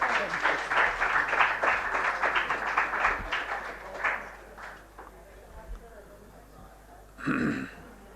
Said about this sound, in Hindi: तालियां बजा दीजिए दोस्तों।